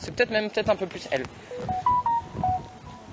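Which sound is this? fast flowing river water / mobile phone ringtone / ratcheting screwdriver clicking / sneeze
mobile phone ringtone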